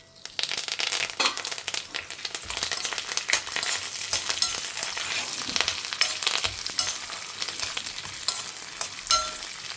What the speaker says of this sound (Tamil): இது நல்லா செவக்க வறுத்துக்கலாம்